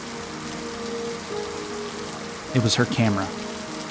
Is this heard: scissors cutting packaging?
no